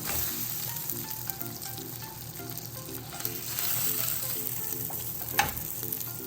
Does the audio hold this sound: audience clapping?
no